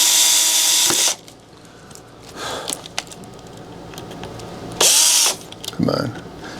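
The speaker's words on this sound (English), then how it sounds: "Now I'm going to use a larger drill bit, see if we can engage the whole thing" A power drill bores out a hardened broken screw in a door lock, running in loud bursts of a few seconds with quieter gaps, clicks and rattles between them.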